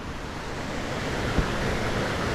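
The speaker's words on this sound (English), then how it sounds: "I hear a lot of water." Punchbowl Falls waterfall in NSW roars as a steady, dense rush of water, loud and unbroken throughout, with no voices.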